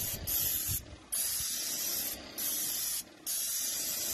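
A paint sprayer blasts brown paint on a horse house in loud steady hissing bursts, three long sprays separated by short gaps, close up with no talk.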